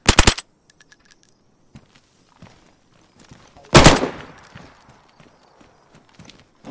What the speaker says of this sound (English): I've got to shoot this bison.